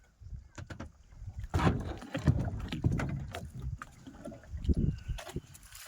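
A wooden rowboat is brought in on the Mahisagar river near Balasinor, with irregular close knocks, splashes and hull thumps against water over faint wind.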